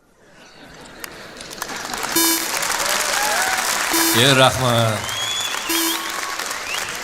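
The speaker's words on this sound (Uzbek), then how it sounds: "Qarsakinglar." Audience applause at a forum for entrepreneurs who started businesses before age 25: a dense, steady crowd clapping that builds and holds, with someone speaking over it throughout.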